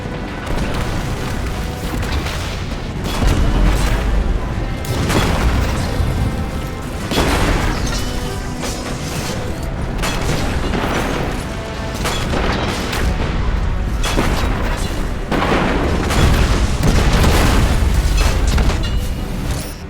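Red Legion tank cannons blasting in Destiny 2, a steady barrage of loud booming explosions and crashes with dense low rumble throughout, no voices.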